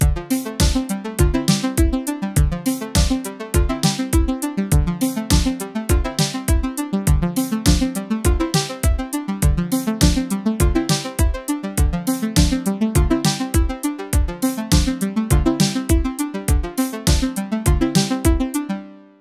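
A looping groove of punchy drum hits and pulsing synth notes repeats at a steady tempo, loud and continuous with no voices.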